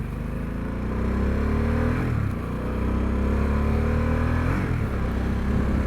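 A 2022 Harley-Davidson Sportster S rides through traffic, its engine revving up through the gears in repeated rising pulls on a sunny day, heard loudly from the bike itself.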